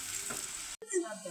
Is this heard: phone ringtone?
no